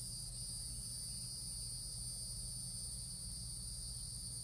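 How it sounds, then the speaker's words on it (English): A cicada buzzes outdoors near a porch, a steady high-pitched drone that holds without a break over a faint low hum, with no voices. "That's a cicada bug right there."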